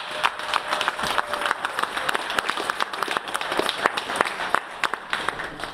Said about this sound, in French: Alors nous remercions la première dame en l'applaudissant.